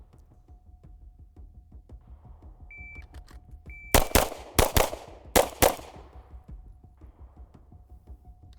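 Pistol shots at shooting practice with a Glock and a 2011: five sharp, loud reports in quick pairs and a single, ringing over a quiet outdoor background, with no talking.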